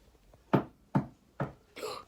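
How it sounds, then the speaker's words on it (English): Three firm knocks on a door at an even pace, followed by a softer, broader fourth sound, close and fairly loud against a quiet room. "And someone knocked at the door."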